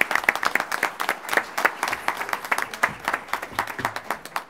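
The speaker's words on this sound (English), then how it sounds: "So give a round of applause for you guys." Clapping at a school board meeting, a smaller group of hands producing distinct, close, uneven claps that come in a loose rhythm and stay fairly loud throughout.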